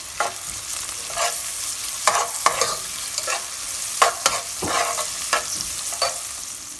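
Ginger, garlic and onion frying in a pot, stirred with a spoon so that scraping strokes break through a steady sizzle. The strokes fall irregularly, close and moderately loud, with no voices.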